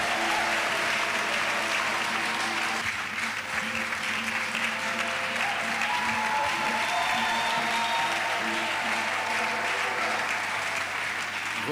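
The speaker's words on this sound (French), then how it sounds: "Let us clap for Jesus." A church congregation claps for Jesus during a deliverance ministry service, the thick, sustained clapping mixed with crowd murmur and cheering, loud and continuous, with a sound system hum underneath.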